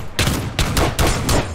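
Rapid bursts of gunfire from shotguns and a pistol in a Minecraft battle royale match, three or four loud, close volleys in quick succession with short gaps between them.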